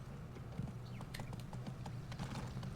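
Horse hooves clip-clop in a steady, quiet rhythm while riding down a mountain in the video game Go Vacation, with repeated light hoofbeats over a low droning background.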